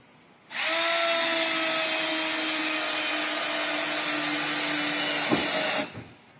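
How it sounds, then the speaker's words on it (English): A cordless drill driving screws into a chicken coop build whirs steadily for about five seconds at close range, with a brief bump in pitch before it winds down and stops. "Then we get our cordless drill. And we start zipping in our screws."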